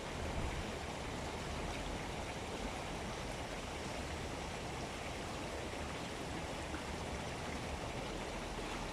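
Water of the Hacı Ahmet creek in Balçova flows down its concrete-lined bed as a steady, soft, even rush that does not change, with no voices.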